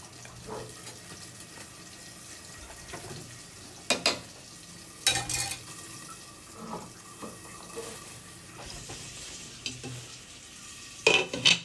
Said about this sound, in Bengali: এখানে রোস্টের জন্য পেঁয়াজটা ভাজতেছি